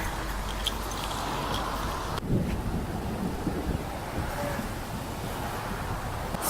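Heavy rain pouring down with thunder about: a dense, continuous broadband roar mixed with gusty wind buffeting the microphone, holding steady throughout with a sharp surge partway in and no speech.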